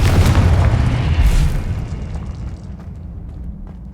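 A Confringo blasting spell explodes in the Hogwarts Legacy video game: one loud, deep boom bursts out at the start and rumbles away over the next few seconds.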